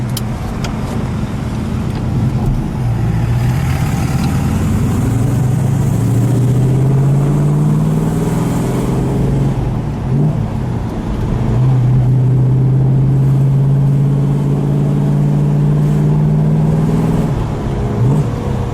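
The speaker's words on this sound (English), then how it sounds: "That's the sound of a muscle car." A 1968 Plymouth Road Runner's 383 V8 revs loudly and deeply, the throttle rising and falling in long sustained pulls with a throaty rumble, close and continuous.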